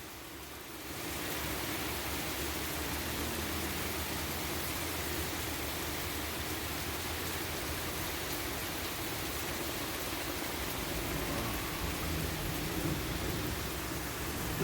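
Heavy rain pours steadily outdoors in Georgia as a thunderstorm rolls through, a dense, even hiss holding constant with low rumbling underneath, no voices present.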